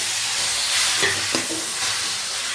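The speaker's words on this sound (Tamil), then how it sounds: "இந்த மாதிரி ஒரு மூணு தக்காளி எடுத்து நைஸாக வெட்டி வச்சுருக்கிறப்ப அதையும் சேர்த்து வதக்கலாம்" Chopped tomatoes sauté with onions in hot oil: a steady, dense sizzle runs throughout, with a few soft stirring scrapes partway through and no talking.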